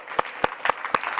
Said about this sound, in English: can I get a big, big round of applause for my amazing staff